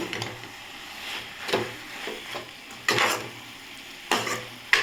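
Small spinach greens (sirukeerai) sautéing in a pan for chutney, stirred with a spoon: quiet, recurring scraping strokes and clatters over a faint, soft sizzle, with no talking.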